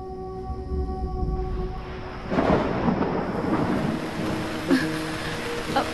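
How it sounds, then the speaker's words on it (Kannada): Rain falls steadily in a film scene, with a low rumble of thunder, as soft sustained background music fades out and the hiss of rainfall takes over, no talking. "ಮಳೆ ಬರ್ತಾ ಇದೆ."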